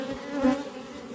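Honey bees hum at a beehive, a steady close buzzing drone that briefly swells louder before settling back to an even, continuous hum.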